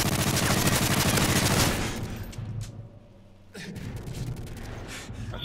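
Dense bursts of automatic gunfire in a shooter video game, loud and rapid at first, then fading into scattered shots and a breathy gasp.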